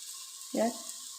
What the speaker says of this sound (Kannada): ಟೊಮೊಟೊ ಫ್ರೈ ಆಯಿತು